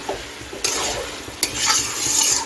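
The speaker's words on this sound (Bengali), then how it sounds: "এক টেবিল চামচ ঘি দিয়ে দিচ্ছি এখন সব কিছু ভালো করে মিশিয়ে নিচ্ছি" Cabbage pakora mixture stirred with a spoonful of ghee in a pan, steady scraping and sizzling throughout with a couple of sharp utensil knocks against the pan.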